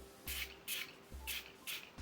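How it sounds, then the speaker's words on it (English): Four short hissing spray bursts from a Huda Beauty setting spray pump bottle, close and fairly loud, spaced unevenly with brief quiet gaps. "I'm going to spray it with the Huda Beauty only."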